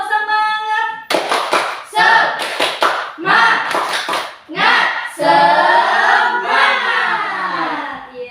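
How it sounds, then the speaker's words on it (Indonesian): A classroom group of students led by a teacher performs rhythmic 'tepuk semangat' clapping, loud close clap patterns in short bursts alternating with chanted voices, ending in a sustained group shout. "kita ice breaking dulu dengan tepuk semangat."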